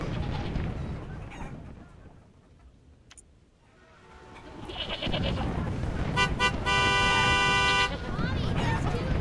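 A car horn honks in Halo 3: ODST, a run of rapid, closely spaced toots near the end, loud over a busy background with voices talking.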